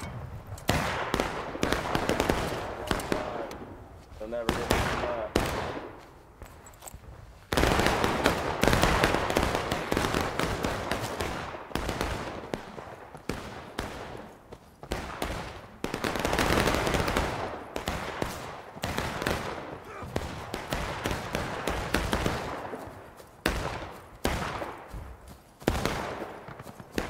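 Dense musket volleys ring out in the Civil War shooter War of Rights during a Union skirmisher flank, with sharp overlapping cracks near and far forming continuous ragged firing throughout.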